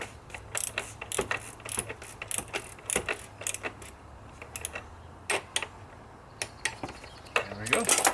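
Ratchet clicking as bolts are tightened on a Volkswagen TDI oil cooler housing, with bursts of rapid close ratcheting separated by short pauses and some soft handling noise.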